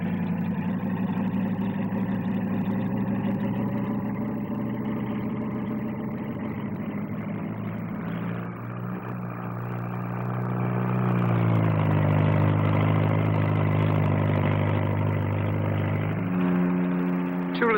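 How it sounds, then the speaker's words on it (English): A Bristol 192 twin-rotor helicopter landing with one engine blanked off at the 1958 Farnborough air display, giving a steady droning, buzzing engine and rotor tone that rises in pitch midway and stays loud and close throughout. "The Bristol 192, shown here landing, and as it lands, one engine is blanked off."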